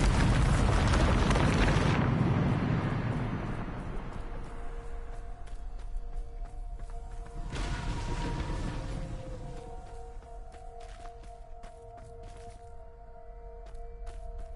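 Loud explosive spell blast in a PS4 video game opens with a heavy, broadband roar that fades over a couple of seconds, followed by a second softer rumbling burst mid-clip amid lingering tonal game effects.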